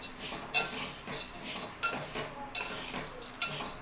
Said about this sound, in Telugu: ఇలా కలుపుకుంటూ అయితే వేయించుకోవాలన్నమాట.